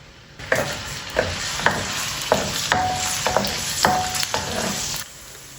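Bitter gourd pieces fry in a pan as they brown, a steady close sizzle broken by regular spatula scrapes and stirring clacks roughly every half second, no talk.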